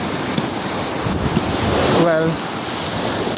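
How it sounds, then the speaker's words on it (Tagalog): Pacific Ocean waves break on the shore with steady wind rumbling and buffeting the microphone, a continuous loud roar; a voice speaks briefly. "ito ay ang dagat papuntang Amerika na"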